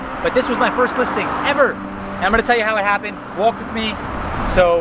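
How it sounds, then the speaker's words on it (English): Busy road in Palisades Park, New Jersey, with cars and heavier vehicles rumbling past continuously under someone speaking close by. "You're on a really busy road"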